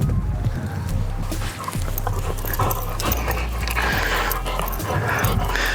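A dog pants hard and fast up close after a full sprint on St Mary's Glacier in Colorado. The breathing runs continuously over outdoor background noise with no talking.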